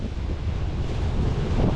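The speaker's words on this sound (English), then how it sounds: "It's pretty windy through here, mate." Strong wind roars steadily across the microphone on a boat at a sheltered coastal camp spot, a loud continuous low rumble with no voices.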